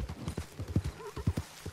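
Horse hooves clip-clopping in rapid, uneven steps in the Red Dead Redemption 2 video game, with a brief whinny partway through, close and moderately loud.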